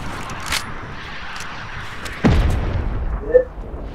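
Rocket launcher fire in the video game Fortnite: a sudden heavy boom lands mid-clip with a rumbling tail, and a smaller sharp pop follows about a second later over low game ambience.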